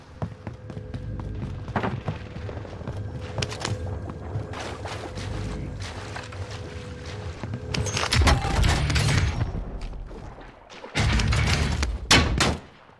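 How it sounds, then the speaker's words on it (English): Gunfire in a bot-lobby shooter match: scattered loud shots and heavy booming bursts, densest toward the end, over constant game background noise, with almost no talking. "Who's shooting at me?"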